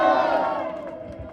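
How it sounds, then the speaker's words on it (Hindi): A crowd at a political rally for an Aam Aadmi Party candidate bursts into a short loud cheer with shouting voices, fading quickly within about a second. "ताली तो बजा दो अपनी बहन के लिए, जोरदार ताली तो बजा दो"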